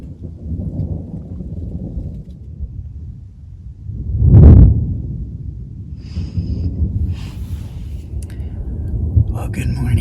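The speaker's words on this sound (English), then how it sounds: "we've got a doozy of a storm about to hit us" Thunder from an approaching spring severe thunderstorm, heard before dawn: a single loud rolling rumble swells near the middle of the clip over steady low background rain-like noise, with faint scattered sounds after.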